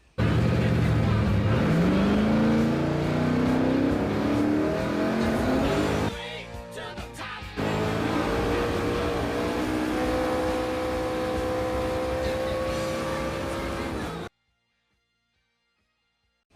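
A race car engine revs hard and sweeps up and down in pitch, loud and close. It dips briefly mid-way, then holds a steady high drone before cutting off abruptly into silence.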